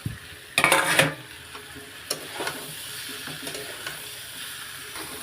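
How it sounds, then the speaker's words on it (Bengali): Fried fish being stirred and sautéed in curry masala in a pan, a burst of loud scraping and sizzling early on, then softer intermittent stirring knocks over a steady frying hiss, close by with no talking. "এখন ভালো করে নেড়ে চেড়ে তারপরে একটু কষিয়ে নেব"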